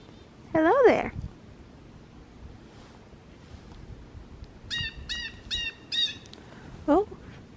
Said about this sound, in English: Oh, we've got a bluebird fight.